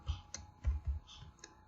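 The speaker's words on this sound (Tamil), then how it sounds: "2 டைப் பண்ணிட்டு என்ட்ரி கொடுத்துறேன்" A value is typed on a computer keyboard in a quiet room, about half a dozen faint, close keystroke clicks in an uneven rhythm.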